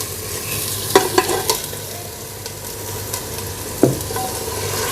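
Chicken fries in a pan with a steady loud sizzle, broken by a few sharp stirring clinks and scrapes, with no talking.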